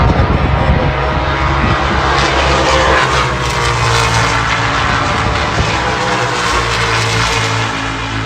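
NASCAR stock cars at Mosport racing side by side down the straight, a loud sustained engine roar that swells and fades slightly as the pack passes, with no voices.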